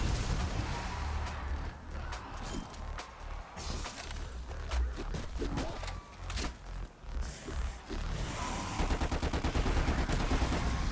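Rapid gunfire in the Black Ops Cold War zombies map Mauer der Toten comes in sharp repeated bursts over a busy game-sound backdrop, with short pauses between volleys and a denser run of shots near the end.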